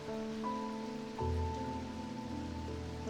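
Rain ambience from the video game Strange Antiquities: a faint, even patter runs beneath soft, eerie sustained music tones for a few seconds.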